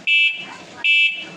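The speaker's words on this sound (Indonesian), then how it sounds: "Sementara ini untuk klakson seperti ini" The horn of a Pasific Magenta electric bicycle gives two short, loud electronic beeps, each a steady shrill buzzing tone separated by a brief gap.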